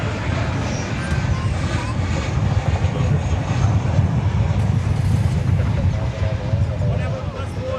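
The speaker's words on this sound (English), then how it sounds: "Here is American Flight 1686 arriving from Kalispell" An American Airlines jet arrives at DFW Airport, its engines a steady, broad roar under gusty wind noise at moderate distance, with a voice talking throughout.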